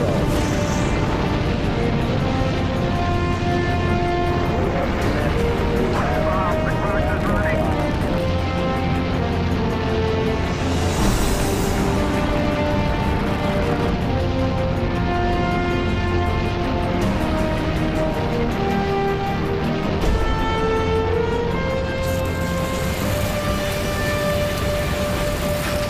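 A launch rocket's engines roar in a long, dense, rumbling blast, heard as a played recording. The sound is loud and continuous for the whole stretch, with crackling, shaking bursts layered over a deep steady thunder.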